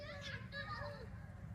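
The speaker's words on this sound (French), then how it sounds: "Il y a des enfants qui jouent." Children playing in a nearby park, their high voices calling and chattering faintly at a distance as a brief, steady background murmur.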